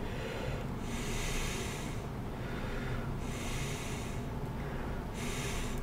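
Slow, forceful breaths sound up close in an exercise session, each one a long hissing rush of air, about three of them spaced a couple of seconds apart.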